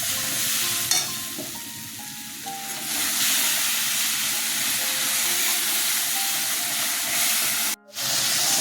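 Ground turmeric, dried chilli, cumin and coriander powders hit a hot pan for fish-head mung dal, setting off a loud, steady sizzle and hiss that runs almost the whole time, with a brief dip near the end.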